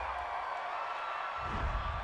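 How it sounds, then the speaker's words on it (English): A home stadium crowd at an NFL game, Cincinnati Bengals against Denver Broncos, cheers a referee's call. The roar is distant and steady, swelling slightly toward the end. "This home crowd, they're happy with that call."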